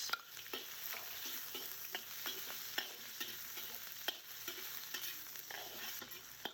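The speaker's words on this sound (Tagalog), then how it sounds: "Sa mainit na kawali, naglagay po ako ng cooking oil. At nilagay ko na yung sibuyas." Sliced onions fry in hot cooking oil in a pan, giving a soft, continuous sizzle broken by frequent sharp clicks and scrapes of stirring; no one speaks.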